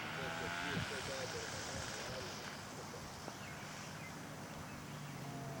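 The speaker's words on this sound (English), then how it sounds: "Craig is coming in for his landing. Still a little bumpy out there." A scale model aircraft comes in to land in bumpy, gusty conditions, its engine a thin, buzzing drone heard under steady commentary.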